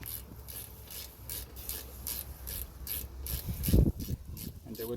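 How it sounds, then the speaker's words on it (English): Brake bolts on a Dodge Durango are tightened by hand, giving a steady rhythmic metallic rasp and ratcheting, close and moderately loud, with one heavier clunk near the end. "Now that both bolts are in, we're just going to hand tighten it."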